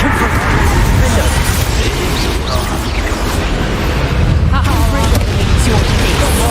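Confringo fire spells explode in Hogwarts Legacy, with repeated heavy booms and rumbling blasts layered under near-constant excited voices.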